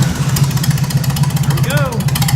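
A Farmall Super A tractor engine cranking on the starter switch, a steady low rhythmic chug of the starter turning the engine over without catching, with a person talking briefly over it.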